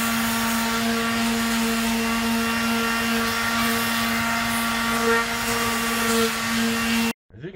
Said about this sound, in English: Next step is to sand it.